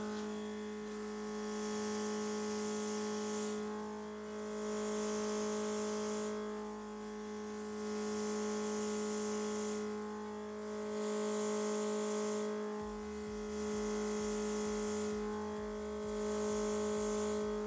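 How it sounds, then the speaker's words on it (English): Soft makeup airbrush hissing, from a Dinair airbrush spraying onto tissue, comes in repeated bursts about every two seconds over a steady electric hum and faint background music. "Turn it on, spray your tissue."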